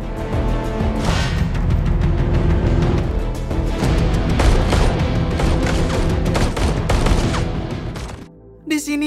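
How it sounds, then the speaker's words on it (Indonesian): Dense, loud film shootout gunfire, rapid overlapping shots and bursts rattling continuously for about eight seconds before cutting to a brief quieter moment. "Aksi tembak-tembakan pun tak terhindarkan."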